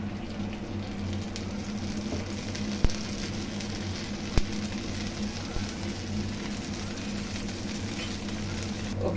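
Dosa batter fries in a pan as oil is poured around its edges, giving a dense, steady sizzle and crackle with a couple of sharper pops, close and fairly loud.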